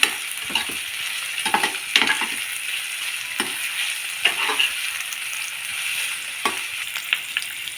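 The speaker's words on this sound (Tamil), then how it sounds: "இப்போ வந்து கருவேப்பிலை பச்சை மிளகாய் சேர்த்துடலாம் இதையும் கொஞ்சம் அப்படியே வதக்கிக்கலாம்" Onion, curry leaves and green chillies sautéing in oil in a pan, a loud continuous sizzle broken by intermittent scraping stirs of a spoon against the pan.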